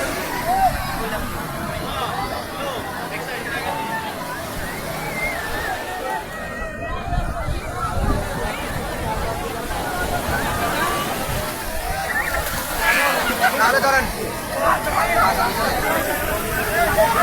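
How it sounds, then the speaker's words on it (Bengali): Sea waves roar steadily along a crowded beach, a constant broad wash of surf blended with dense crowd babble and voices throughout. "সমুদ্রের গর্জন অবশ্যই শুনতে পাচ্ছেন"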